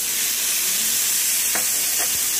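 Tomatoes dropped into a pan of sizzling shrimp, giving a steady, close frying hiss with a couple of brief stirring scrapes near the end and no voices.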